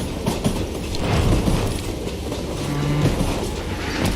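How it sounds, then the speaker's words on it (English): Moving freight train with flat cars loaded with logs in the video game Call of Juarez: Gunslinger, a steady rumbling roll with rhythmic clickety-clack of wheels on rails, loud and continuous throughout. "I wondered if I was ever going to find the front of that train."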